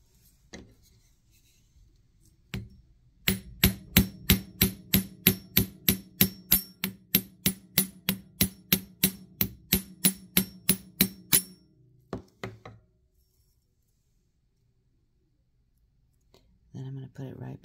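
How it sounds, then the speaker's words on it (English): A small hammer strikes wire being shaped for an ammonite wire-wrapped pendant, about twenty sharp, evenly spaced taps in a steady rhythm, close and crisp, followed by a few scattered knocks. "I'm going to pull it out and I'm going to hammer it"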